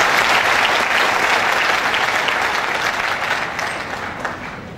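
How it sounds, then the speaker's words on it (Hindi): Audience at a Meerut success day event applauding loudly, dense clapping throughout that gradually tapers toward the end. "मैं चाहूंगा कि जोरदार तालियां उनके लिए हों।"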